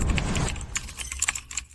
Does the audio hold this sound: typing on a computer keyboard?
yes